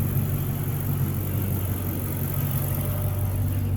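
A 2006 Chrysler 300 SRT-8 sitting at idle, its exhaust giving a steady, deep low rumble with a constant hum and no revving, heard alone.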